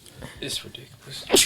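A person with hay fever lets out one sharp, close sneeze at the very end, right after a few quietly spoken words.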